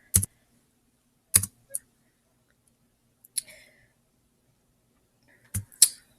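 Scattered keystrokes and clicks as a city name is typed in, a few short sharp taps separated by long silent gaps, close and isolated.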